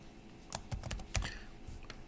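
Keys are tapped on a computer keyboard in a short burst of several clicks with uneven rhythm, quiet and close.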